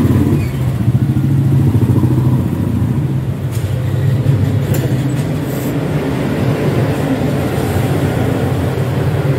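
A Piaggio Ape Xtra LDX cargo three-wheeler with a 300cc water-cooled CNG and petrol BS6 engine runs at a steady idle, a loud, even, low drone heard up close with no talking.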